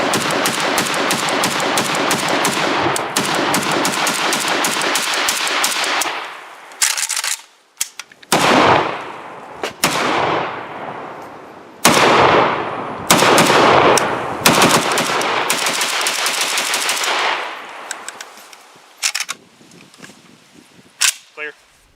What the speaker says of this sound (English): We also took this out to test fire it, and here are its first shots.